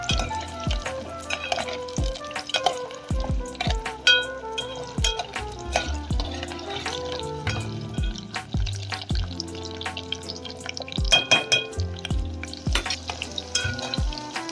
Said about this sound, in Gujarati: આવી રીતે સતત તેને હલાવી અને આપણે જો આપણી ડુંગળી સરસ ચડી જવાય છે